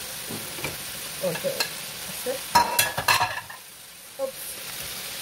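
A chicken roast is stirred in a pan for a family Eid meal, with scattered scraping clinks of a utensil against the pan over a soft sizzle, loudest in a cluster of knocks midway, then quieter.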